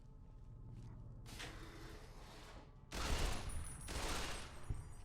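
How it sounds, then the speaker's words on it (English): Gunfire in Fallout: New Vegas at creatures inside a vault, muffled bursts of shots over a low rumble, growing heavier and louder for the last two seconds. "I can continue to shoot small defenseless creatures"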